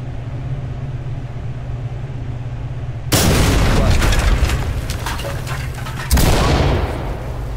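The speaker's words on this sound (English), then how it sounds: "Fire in the hole." A grenade detonates in the Ready Or Not tactical shooter, two loud, abrupt blasts a few seconds apart, each followed by a rumbling, crackling decay over low background noise.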